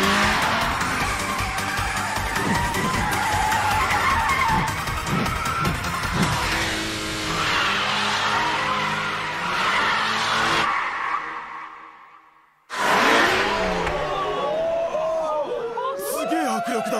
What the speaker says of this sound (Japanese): すげえ速い車だ。